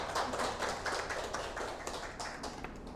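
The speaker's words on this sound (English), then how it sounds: "please give a warm applause to Miss Anna Kamahala" An audience at a business community event for international students applauds to welcome a speaker, a dense, even patter of many hands clapping steadily throughout.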